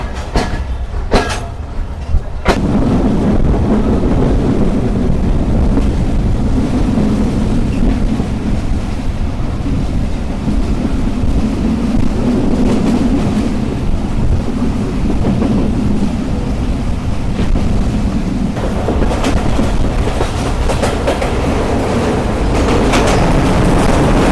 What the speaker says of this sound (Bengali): আন্তনগর বাংলা বান্দা এক্সপ্রেস ছেড়ে গেল মাদনগর রেলওয়ে স্টেশন দুপুর 4:48